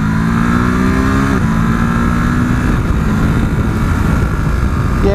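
A 2017 Ducati Supersport S sports-tourer motorcycle accelerates hard, its engine a loud, close, continuous drone whose pitch climbs then drops at a gear change before climbing again.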